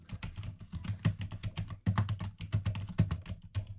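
Rapid, uneven keystrokes clatter on a computer keyboard while a message is typed in a hardcore game session, close and steady with short pauses between bursts.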